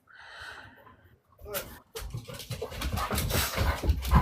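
A dog breathes and pants close by in short, uneven bursts, with faint snuffling and light household noise after a brief quiet gap.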